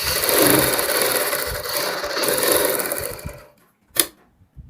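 Sewing machine stitching a half-ban kurti neck patch over buckram, a steady close mechanical whir running for about three seconds, then stopping, followed by a sharp click and faint handling.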